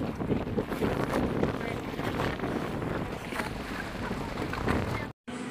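Steady, rushing wind buffets the microphone with broadband roar and gusts, continuous throughout, with faint background voices mixed in, outdoors in Gaithersburg, Maryland.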